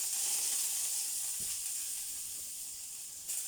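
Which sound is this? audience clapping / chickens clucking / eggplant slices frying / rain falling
eggplant slices frying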